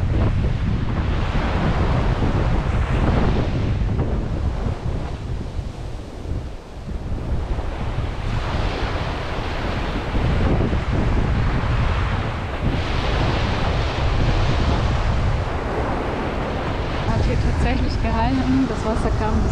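Ocean waves surge and wash against a beach breakwater in loud, rolling swells, heard close up with strong wind buffeting the microphone throughout.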